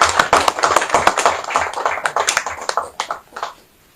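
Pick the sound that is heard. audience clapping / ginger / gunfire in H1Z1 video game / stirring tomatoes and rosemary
audience clapping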